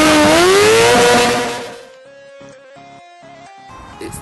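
Stunt motorcycle engine revving hard, a loud rising whine that fades out, followed by quieter choppy bursts bouncing off the rev limiter.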